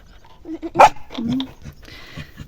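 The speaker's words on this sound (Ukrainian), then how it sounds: "ти чого на мене гавкаєш? Чого гавкаєш на мене, я питаю?" A dog gives a few short, close barks and yips in quick bursts, with brief gaps between them.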